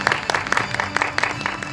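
Congratulatory applause at a virtual human industry association annual meeting as an award winner steps onto the stage, a short burst of many people clapping steadily indoors without speech.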